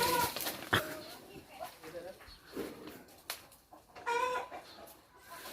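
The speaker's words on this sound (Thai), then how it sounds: "ปล่อยให้เด็กกรุงเทพนะครับ ลองจับไก่ดูวันนี้" Chickens cluck and squawk in short bursts as children try to catch them, with people talking and calling out over the scattered fowl noises.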